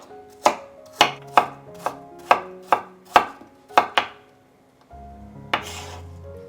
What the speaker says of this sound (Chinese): 然后再给它切碎，也不要切得太碎，留有一点点颗粒感